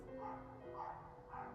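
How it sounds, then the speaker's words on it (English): Dogs barking in the background, three faint muffled barks spaced evenly under a steady low hum, distant and soft. "I'm so sorry for the dogs. I can't stop them from barking"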